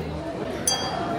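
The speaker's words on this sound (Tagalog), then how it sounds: "Cheers tayo." A single bright clink of glasses touched together in a toast, brief and fairly clear amid murmuring voices and background chatter of a group.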